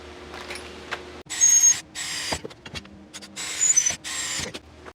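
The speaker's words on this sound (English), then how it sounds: "I'm gonna pre-drill holes in this, make that bracket." Bursts of high-pitched power drilling into a metal L bracket, several short runs of whining motor with pauses and clicks between, close and loud.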